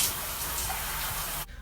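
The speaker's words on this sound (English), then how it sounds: "And rinse it out." Water gushes from a shower or tap, rinsing shampoo out of dreadlocks in a steady close hiss that stops abruptly at the end.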